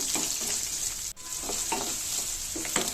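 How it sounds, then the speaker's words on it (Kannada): Green chillies and chopped onion frying in a pan for capsicum and green pea upma, a steady close sizzle broken by repeated spoon scrapes and stirring, with one brief dip partway through. "ಈಗ ಹಸಿರು ಮೆಣಸಿನ್ಕಾಯಿ ಈರುಳ್ಳಿ ಎಲ್ಲ ಚೆನ್ನಾಗಿ ಫ್ರೈ ಮಾಡ್ಕೋಬೇಕು"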